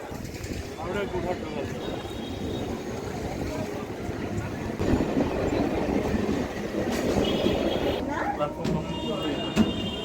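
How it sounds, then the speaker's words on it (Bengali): Local train at Sheoraphuli station, a steady low rumble of carriages and platform bustle with some voices mixed in, rising slightly partway through and ending with brief high squeal-like tones. "এই ট্রেনটাতে করেই আসলাম আমরা"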